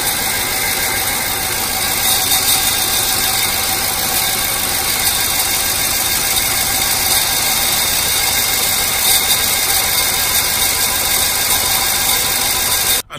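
A Chevy Avalanche truck engine runs rough with a cylinder 3 misfire, giving a steady, loud, close mechanical clatter with an uneven ticking rhythm throughout, with no talk.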